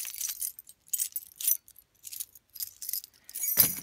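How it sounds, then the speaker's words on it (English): A bunch of metal house keys jangles in several short, bright bursts with brief pauses between them, close and clear with no talking. "My house keys."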